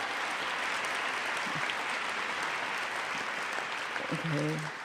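Sustained applause from an enthusiastic audience at a lecture event honoring Edward Said, a dense even roar of many hands clapping, with a voice beginning to speak near the end.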